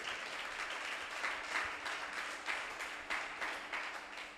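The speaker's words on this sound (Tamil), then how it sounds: "நம்புறங்க ஒரு கைத்தட்டி அப்பாக்கு மகிமை செலுத்துங்க." A church congregation clapping together in praise, a continuous wash of many hands with slight rhythmic swells, moderately loud and steady throughout, no talk over it.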